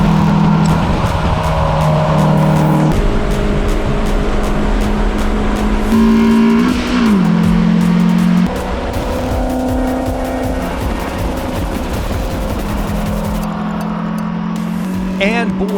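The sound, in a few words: Toyota Yaris race car lapping Big Willow track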